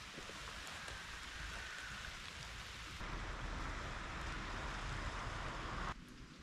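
Steady rain falls at a riverside barbel fishing spot, a dense continuous hiss of drops on water and surfaces that swells slightly louder midway, with no voices.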